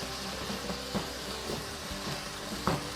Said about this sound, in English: So I'm gonna chop it with the meat chopper.